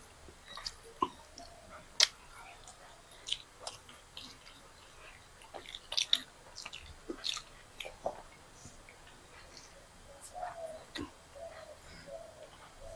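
Someone eats roti with spicy chicken curry and paneer, with close, quiet, wet chewing and sporadic sharp smacks and clicks scattered over a soft background. No one talks.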